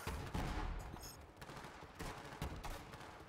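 Rapid continuous gunfire from the video game Borderlands 3, a dense close barrage of shots with no pauses, fairly quiet overall, no talking.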